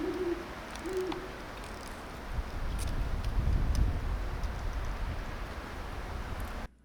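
A pair of great horned owls calls on a mountainside, two short low hoots near the start sounding fairly close, followed by quieter outdoor background noise with faint ticks and rustles.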